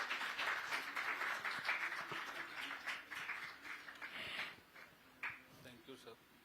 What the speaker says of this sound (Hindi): आप सब लोग जोरदार तालियों के साथ उनका स्वागत करें